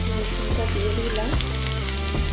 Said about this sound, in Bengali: রসুনটা দিয়ে দিলাম।